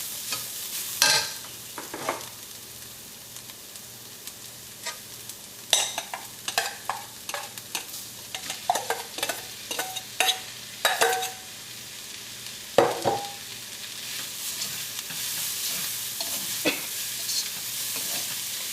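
A spatula stirs cabbage, green peas, mashed beetroot and carrot in a frying pan, with a soft sizzle beneath irregular scraping strokes and clusters of sharper scrapes. No one speaks.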